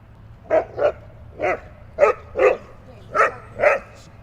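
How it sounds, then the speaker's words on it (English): Two dogs playing together let out about nine sharp, close barks in an uneven rhythm over a quiet low hum, without any talking. "James got a little bit feisty with the two dogs playing with each other"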